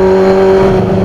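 A Kawasaki ZX-6R 636 motorcycle's exhaust roars inside a tunnel, a loud, sustained engine note with a steady pitch echoing briefly off the walls.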